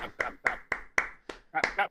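A small group's sparse clapping during a painting hobby live stream, about seven separate sharp claps spaced unevenly, close and fairly loud, with a quick double clap at the end.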